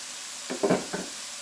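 Eggs hit a pan of chicken fried rice with a soft sizzle, several short bursts over a quiet steady hiss, heard close with no speech.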